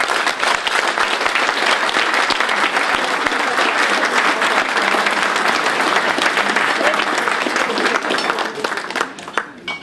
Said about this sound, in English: owe it to yourself to give yourself a huge round of applause.